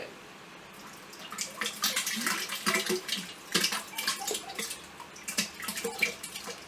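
Water sloshes and splashes in irregular bursts, close by, like water being stirred around in a basin, with no talking.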